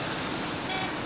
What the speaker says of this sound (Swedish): Det måste nog vara en tuta som är igång konstant här.